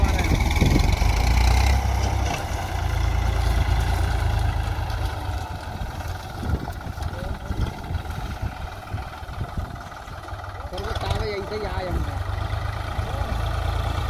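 A Swaraj 939 FE tractor labours under load while pulling a cultivator: a heavy, low engine drone runs steadily throughout, with voices talking over it.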